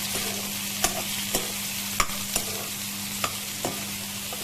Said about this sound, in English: I am going to add the garlic as well as the tomato. Let us saute everything well